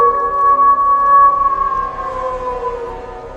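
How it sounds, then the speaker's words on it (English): A long, wavering mournful howl of a hound on a moor, sustained and fairly loud, slowly fading over a few seconds with no voices. "Watson, it was a cry of a hound."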